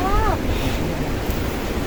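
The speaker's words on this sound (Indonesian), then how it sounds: "di pos 3, kami disambut oleh angin yang sangat besar" Strong gusting wind sweeps across Mount Merbabu during a storm, a loud, steady roar buffeting the microphone, with a brief voice sounding near the start.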